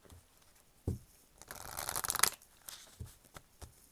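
A deck of oracle cards being shuffled, giving a brief dry riffle and a denser rustling burst of card edges in the middle, close and fairly quiet, with a few soft taps before and after.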